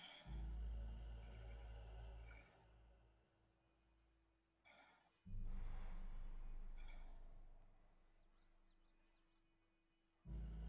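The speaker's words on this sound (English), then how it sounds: "Ujjayi breathing." Ujjayi breathing during a yoga forward bend, slow audible breaths with long drawn-out exhales and pauses between them, close and soft, no talking.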